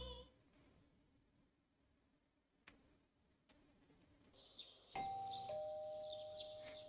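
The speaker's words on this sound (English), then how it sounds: "You hear the doorbell ringing." A doorbell rings in a video game, a clear two-tone chime with a sustained ringing tone that enters after a stretch of quiet ambience with a few faint ticks.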